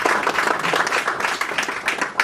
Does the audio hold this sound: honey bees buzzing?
no